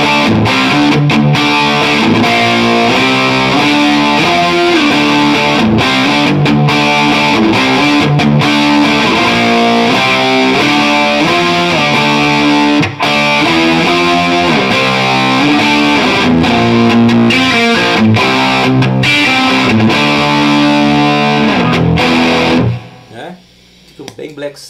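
An electric guitar played through a booster pedal into a Bad Cat Unleash attenuator delivers heavy, dark, distorted riffs in a heavy metal style, loud and sustained throughout before cutting off near the end.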